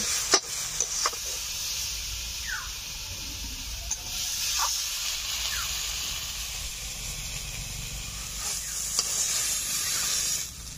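Matar shaak (pea greens) cooking in a pan for a Bengali vegetarian dish, giving a steady, moderately quiet sizzle and hiss, with a few faint scrapes of stirring.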